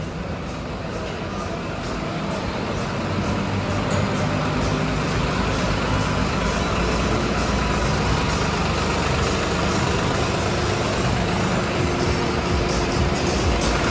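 A large tractor engine at an agricultural machinery fair runs in a steady, loud, continuous rumble, holding close and constant without pause.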